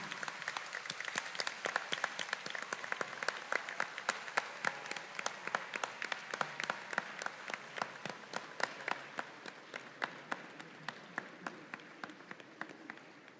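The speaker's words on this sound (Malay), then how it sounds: "Berikan tepukan gemuruh untuk ayah, ibu serta keluarga anda yang hadir pada hari ini" Applause at the 37th IIUM convocation ceremony for graduates' parents and families, fairly faint, distant crowd clapping with distinct individual claps, gradually thinning toward the end.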